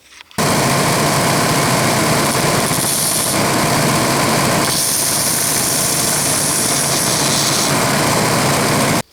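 A large belt sander grinds a small radius onto the end of a soft steel lathe tool bit, giving a loud, steady motor whine and abrasive rasp that starts abruptly and runs for several seconds before stopping.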